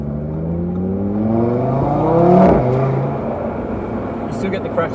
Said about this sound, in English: But you can hear, as I downshift, there's not really any cracks and pops.